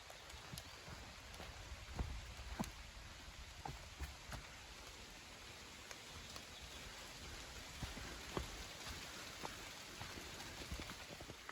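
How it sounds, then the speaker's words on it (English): Steady rain pattering outdoors, a soft continuous hiss broken by scattered sharper drips and taps on nearby surfaces, with no one talking. "hopefully the rain will stop soon"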